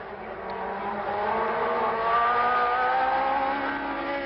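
Formula 1 racing cars from the 1969 German Grand Prix, their engines droning and rising in pitch as they brake and accelerate past the grandstand straight, a loud continuous roar heard from trackside.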